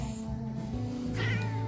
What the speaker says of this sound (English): This kitty's angry.